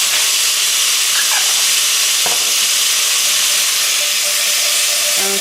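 Minced garlic sizzling in a hot pan, giving a loud, steady hiss close by with a few faint clinks of stirring and no voices.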